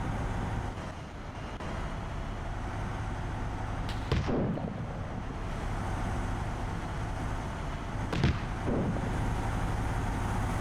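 Gunfire in the video game Arma 3 during a 1939 Winter War battle: two sharp, heavy reports about four seconds apart, cutting through a constant low rumble of engines and distant combat.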